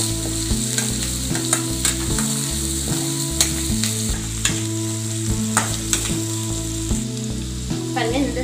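Onions sizzle steadily in a hot pan, with a continuous frying hiss and regular scraping stirs across the whole stretch. No one speaks.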